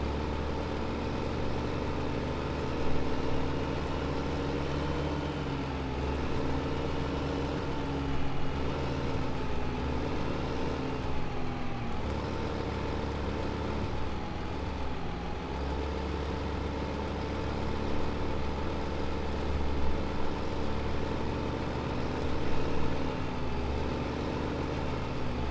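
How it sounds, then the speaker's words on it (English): Tractor engine in Farming Simulator 2015, hauling a large felled tree during forestry work; a steady low drone runs unbroken for the whole stretch at moderate level, with no talk over it. "Tractor's managing surprisingly well with the weight."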